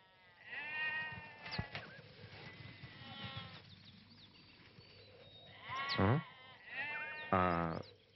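Goats bleat in a sequence of loud, wavering calls, a few early ones close together, then a short lull before two strong bleats near the end, with no voices present.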